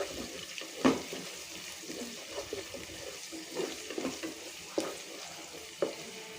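Ginger paste and onions fry in a pan in a home kitchen while being stirred. A soft continuous sizzle runs under several sharp scrapes and clinks of the spoon against the pan, close up.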